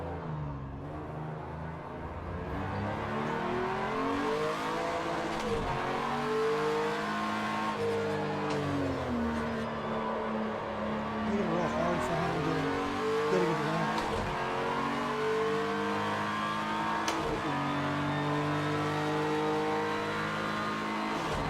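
A race car lapping a track during driver training, its engine rising and falling through gear changes and revs for the whole stretch, moderately loud and continuous without any talk.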